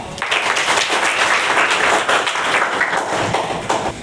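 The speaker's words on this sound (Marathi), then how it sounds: "त्याच्यासाठी एकदा जोरात टाळ्या" Loud, continuous applause from an audience clapping for a contestant who answered correctly at a quiz, dense hand claps filling the whole stretch close up with no talk over it.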